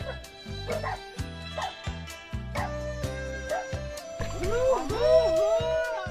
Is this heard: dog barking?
yes